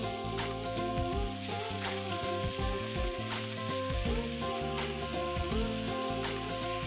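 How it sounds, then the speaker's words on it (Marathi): Pieces of surmai fish fry steadily in a pan, a dense continuous sizzle with faint crackles and a low hum underneath, close and alone without voices. "प्रत्येक साइड आपण 2च मिनिटं फ्राय करून घेऊया"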